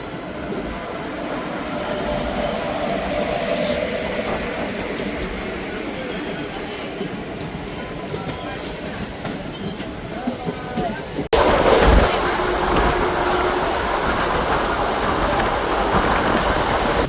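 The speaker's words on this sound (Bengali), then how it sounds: "আমাদের ট্রেন এই মুহূর্তে এখন ছেড়ে যাচ্ছে হলো শেওড়াফুলি জংশন স্টেশন" The Ganadevta Express from Azimganj to Howrah pulls out of Sheoraphuli Junction station behind a WAP4 electric locomotive, a steady rolling rumble heard from inside that grows noticeably louder and harsher partway through, with a voice talking over it.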